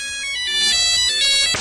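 A phone ringtone plays a short, bright, swinging melody with clear electronic tones, loud and close, for under two seconds, ending in a sharp burst.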